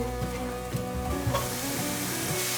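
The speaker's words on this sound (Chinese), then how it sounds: "快速的翻炒。" Potatoes and enoki mushrooms stir-fried in a hot wok give a continuous close sizzle, broken by light, rhythmic scraping and tossing strokes.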